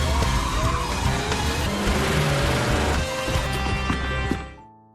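In dense city traffic in a film, a car skids with screeching tires and then strikes a man crossing the road, a loud, continuous squeal that cuts off abruptly near the end.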